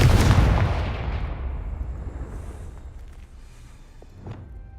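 A Confringo fire spell explodes in Hogwarts Legacy with one loud, deep boom that rumbles away over several seconds, followed by a faint later pop.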